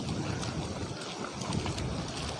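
Strong wind buffets the microphone by the water's edge in a flooded coastal village, a loud continuous roar with gusting rumble and no talking.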